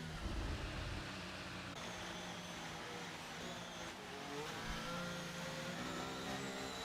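Formula racing car engine from a racing video game at the Spanish Grand Prix, a continuous whining drone that shifts pitch through gear changes, steady and moderately quiet with no talking.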